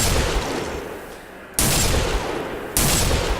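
Rapid bursts of gunfire in a video game, dense and loud, with a lull before two sudden renewed volleys.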